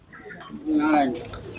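A brief clucking call from a live chicken at a market stands out among muffled background voices, close by and fairly loud.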